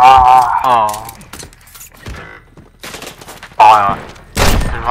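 Pistol fire in a first-person shooter game, sharp broadband cracks standing out between bursts of excited, overlapping voices of players talking close to the mic.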